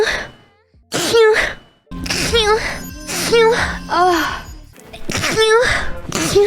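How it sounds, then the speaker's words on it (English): Several loud, sharp bursts in quick succession, each a voiced burst with harmonic tails, typical of repeated sneezing close to the microphone, separated by brief pauses. "why am I sneezing so much?"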